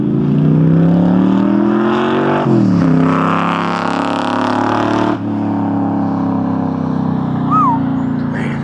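A 1965 Backdraft Cobra's engine runs loud and steady close by, with its pitch shifting as it revs up and settles, alone with no talk over it.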